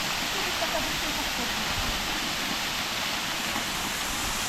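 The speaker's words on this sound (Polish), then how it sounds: "a po prawej taki taki ładny wodospad." A scenic waterfall beside a reservoir in autumn countryside gives a soft, steady rush of falling water, a constant wash of noise heard from a short distance with no other sounds.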